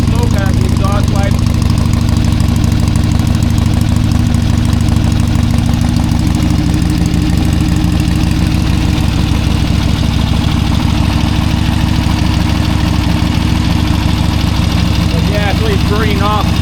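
An old Harley-Davidson Ironhead XLCH engine idles loud and close while burning off degreaser, a steady low knocking rumble throughout with a faint voice under it.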